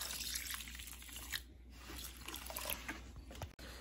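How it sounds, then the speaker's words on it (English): Water is poured into a bowl of rice for a traditional Xinjiang lamb dish, a soft, close splashing and trickling that ends with a brief clunk. "Dump the water in the bowl with the rice"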